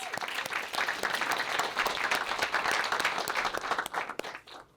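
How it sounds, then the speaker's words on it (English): Audience at a Black History Month program claps steadily for honored district mechanics, a full close round of applause that tapers off near the end. "Can we give them all a round of applause?"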